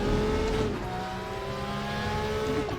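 A race car in the Raceroom sim slows under braking and then accelerates, its engine note a sustained, fairly loud whine that steps down in pitch and climbs again, with no voices over it.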